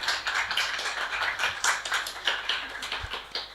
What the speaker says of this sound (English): let's have a round of applause for the training and support agencies